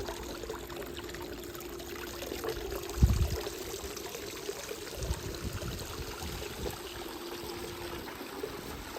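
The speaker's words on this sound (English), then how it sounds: "Water is falling." Water spills over a hot tub spillway in a steady trickling pour under a constant hum, with a few splashy surges.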